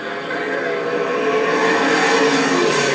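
Late model race cars roar around Selinsgrove Speedway in a loud, steady, sustained engine drone from a pack of cars at speed, with no break.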